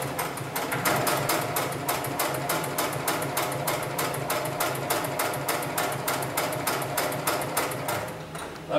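A heavy-duty sewing machine for lifting webbing runs under pedal control, its needle hammering out a fast, even, mechanical stitch rhythm. The rhythm holds steady and loud throughout, then stops abruptly at the end.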